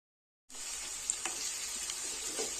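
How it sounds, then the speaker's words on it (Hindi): Chopped onions drop into hot oil for a restaurant-style chicken gravy and break into a bright, steady sizzle after a moment of silence, with a few faint stirring clicks over the hiss. "ऑयल हमारा गर्म हो गया है। अब हम इसमें प्याज ऐड करते हैं।"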